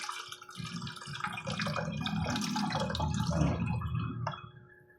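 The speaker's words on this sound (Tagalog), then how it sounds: "Tapos, unti-unti natin nilagyan ng tubig." Water poured gradually into strained calamansi juice, a close, soft, continuous trickling and splashing that swells and then fades toward the end.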